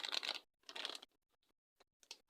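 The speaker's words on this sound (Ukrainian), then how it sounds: "О, який цікавий зіп-пакет. Я ще таких не бачила подвійний цей замочок." Plastic zip-lock bag with a double seal handled close up, giving a few crinkly rustles and a pair of brief clicks or snaps, with quiet gaps between bursts.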